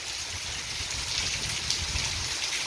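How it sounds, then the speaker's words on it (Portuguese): Steady heavy nighttime rain in Amaniutuba, Ceará, falls on a roof with a continuous close hiss and soft low pattering throughout. "Chuva muito boa."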